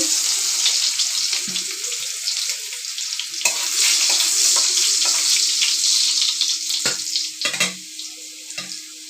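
Dried red chillies and chopped garlic fry in hot oil for a Bengali pumpkin-greens and lentil dish, giving a steady, close sizzling hiss broken by a few sharp crackles and pops.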